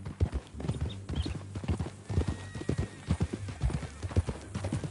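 Horse hooves clip-clopping at a walking pace in Red Dead Redemption 2, with close, rhythmic, uneven hoof strikes over a low ambient bed and an occasional soft snort.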